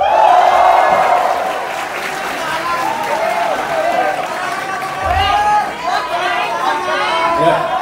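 A crowd at a live concert at M Bloc Live House in Jakarta applauds and cheers as a guest is introduced. Steady clapping and chatter fill the room, with voices over the top.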